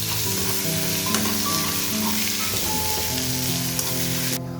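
Ginger garlic paste sizzles steadily in a hot pan, frying while being stirred, a dense close crackle with faint scrapes for duck roast.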